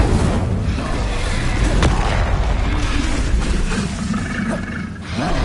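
A Bombarda blasting spell in Hogwarts Legacy erupts as a heavy, rumbling explosion with a deep roar-like boom that swells and lingers across several seconds, loud and close.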